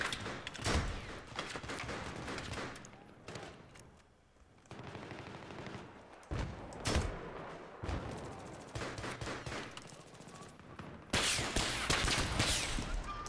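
Rapid bursts of gunfire in a Battlefield match as a player shoots at a building, with loud automatic volleys and scattered single shots coming in clusters with short gaps, close and steady throughout.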